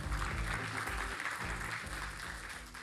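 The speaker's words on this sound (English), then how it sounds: "Big round of applause." Applause from an audience at a Salesforce investor and analyst session at Dreamforce, sustained clapping filling the room and fading slightly toward the end.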